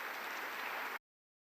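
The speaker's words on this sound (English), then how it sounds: "So a big round of applause once again to our panelists." An audience at the Commonwealth Youth Forum opening ceremony in Kigali applauds the panelists with a steady, faint, dense clatter of clapping that cuts off abruptly after about a second.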